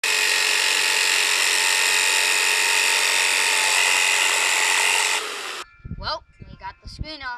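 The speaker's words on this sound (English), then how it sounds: "to get the rest of the screen off, we're gonna need some help from power tools." A power tool whines steadily at close range while the screen is taken off an iPod, a loud, high, sustained buzz for about five seconds before it cuts off and a person starts talking.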